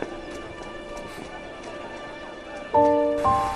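Rain falls in a scene from a Chinese historical TV drama, heard as a steady broadband hiss throughout, with tonal music swelling in near the end.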